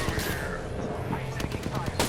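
Gunfire in the battle royale video game Apex Legends crackling in a quick run of sharp shots and bursts, close and fairly loud, layered over game noise with a voice speaking underneath.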